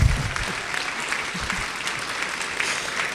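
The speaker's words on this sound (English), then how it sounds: "you don't have to clap, but okay, well, you can clap" An audience claps steadily through an awards ceremony, a sustained wash of applause in a hall that starts a little stronger and then holds at a fairly even level.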